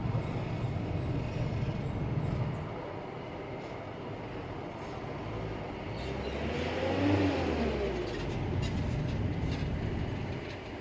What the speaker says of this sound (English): Oh, it's because the metro's coming.